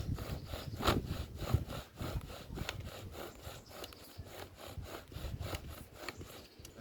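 Rough, rhythmic rasping strokes of a saw cutting a notch into wood for a fire bow drill, repeated steadily and fairly close, with uneven scraping between pushes.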